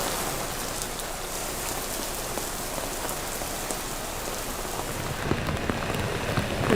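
Heavy rainfall pours down steadily during once-in-a-century flooding in southern Gyeonggi Province, Korea, a dense, continuous hiss of drops hitting surfaces that swells slightly louder toward the end, with no voices.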